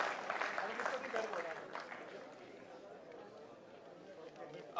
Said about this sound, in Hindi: तालियों के साथ प्लीज